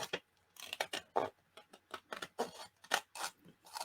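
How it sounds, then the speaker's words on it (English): Small scissors cut around the edge of a cardstock piece for a Christmas journal insert, making quick, close snips in a fairly even rhythm. The cuts are faint but distinct, and nobody talks. "my smaller scissors because it makes it a little bit easier to get in there and cut it"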